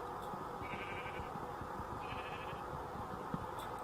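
Minecraft sheep bleat twice in short wavering calls, fairly faint against a steady game background, with no talk over them.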